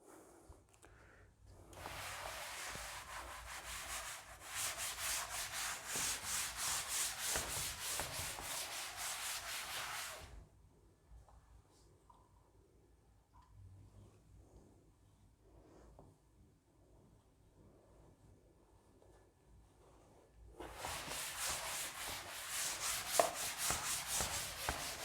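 An eraser rubs back and forth across a classroom board in two long bursts of steady scratchy scrubbing, separated by a quieter pause, close and clear with no talking.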